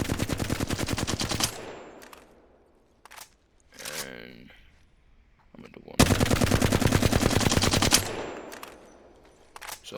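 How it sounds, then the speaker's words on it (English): Flatline rifle in Apex Legends fires two sustained full-auto bursts with recoil held steady, each a rapid loud string of shots, separated by quieter reload and handling clicks. "So this is what it looks like when you control the recoil of the flatline."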